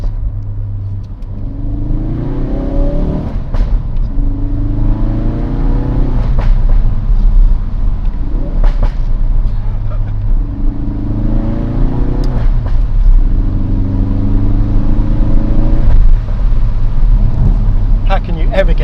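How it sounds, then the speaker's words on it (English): Ford Focus RS revving hard in repeated bursts, each climb in engine pitch ending in crackling pops and bangs on the downshifts; loud, close and continuous, with no talk. "the urge to plant the throttle and get the pops and bangs on the downshifts and accelerating just became too great."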